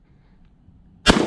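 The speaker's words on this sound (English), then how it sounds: "I'm gonna try to rapid fire this Birdshot if it works." A Black Aces FD12 bullpup shotgun loaded with birdshot fires a single sudden, loud, booming blast at the very end, after about a second of near silence outdoors.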